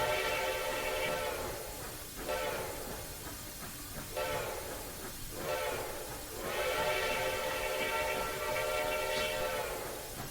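A steam locomotive whistle from Train Simulator Classic's Rio Grande Southern blows in several long, loud, harmonic blasts separated by short gaps, over a steady hiss of steam.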